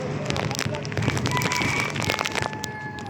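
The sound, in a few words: heavy rain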